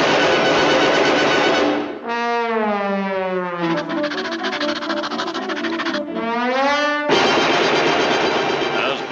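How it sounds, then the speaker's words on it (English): A cartoon rapid-fire coast defense gun blasts loud, continuous sustained bursts with warbling, siren-like sweeping tones between the volleys, all close and harsh. "Here we see the latest long-range rapid-fire coast defense gun in action, shooting 10 million shells a second."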